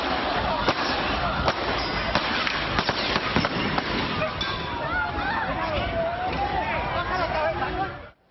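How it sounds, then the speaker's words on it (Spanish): Several sharp gunshot cracks ring out in an irregular burst, fired at terrorists in Spain, echoing over excited voices and shouting crowd noise. "Así se escucharon los balazos en contra de los terroristas"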